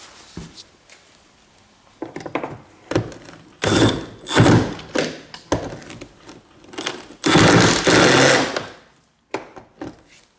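A bolt on a Toyota Corolla fuel tank being loosened, heard as clanks and bursts of mechanical whirring and grinding from a tool, loud and close, coming in uneven spurts with short pauses between.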